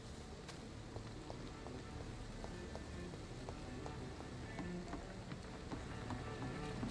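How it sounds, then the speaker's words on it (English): Steady rain falls in the video game Vampyr, a soft continuous patter with scattered drips, faint and even throughout with no talk. "I'm out here in the rain."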